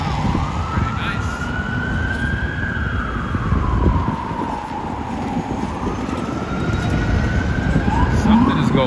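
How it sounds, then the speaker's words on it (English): Police car sirens pass along a Manhattan street, a loud wailing tone sliding up and down continuously over dense city traffic noise. "A lot of police cars headed that way."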